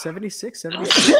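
A single sharp sneeze bursts out right after a short bit of speech in a quiz show setting, close and loud.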